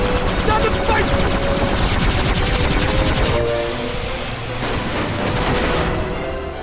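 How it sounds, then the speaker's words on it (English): Dr. Cid's Gatling gun in Final Fantasy XII fires a continuous rapid rattle of shots for about three seconds, then trails off into softer scattered rounds with a low rumble underneath. "A freaking Gatling gun!"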